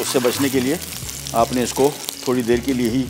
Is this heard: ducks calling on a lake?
no